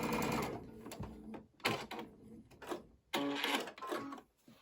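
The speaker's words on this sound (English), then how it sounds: "I'm sewing right along that dotted line." Sewing machine stitching a quilt's half square triangle seam along a marked dotted line, running in several quick bursts with brief pauses, close and clear with no speech.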